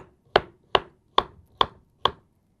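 Five sharp knife chops through vegetables for soup on a cutting board, evenly spaced at a steady, unhurried pace, close and clear with no talking.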